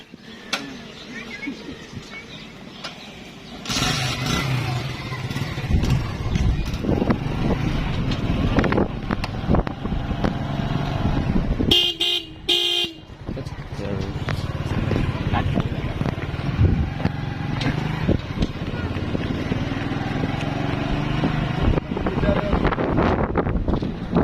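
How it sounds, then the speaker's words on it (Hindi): A motorcycle ride through a village road near Nawabshah: constant engine drone mixed with heavy wind buffeting on the microphone, with brief mechanical clatter midway and a quieter idle at the start. "हम निकल रहे हैं मोटरसाइकिल पे"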